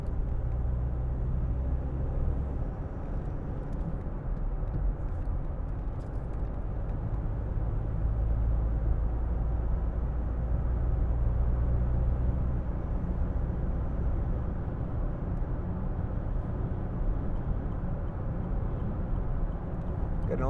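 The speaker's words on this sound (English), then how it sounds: "Getting a little bit of wind noise off the roof bars, but that's usually the crossbar" Steady broadband wind roar and road rumble inside a moving 2007 Land Rover Freelander 2 TD4, with a constant hiss from the roof bars and crossbar under the low drone of the cabin. The sound holds an even level throughout.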